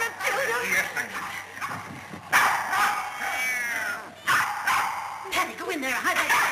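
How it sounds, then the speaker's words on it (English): A dog barks inside a house, with a few short, loud bursts heard over excited, overlapping voices and a busy domestic scene. "Benton, there's a dog in the house"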